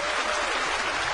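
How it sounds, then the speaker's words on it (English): A large audience at the 1994 Eurovision Song Contest applauds, a brief burst of dense, continuous clapping heard close and loud, with no voices over it. "they're applauding themselves there"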